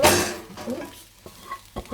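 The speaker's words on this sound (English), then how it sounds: "just stir it so it doesn't stick to the arse of the pan too much" A spoon stirring lasagne sauce in a pan, scraping and sloshing in short strokes with a loud burst at the start, then quieter clinks and scrapes close by, with no talk.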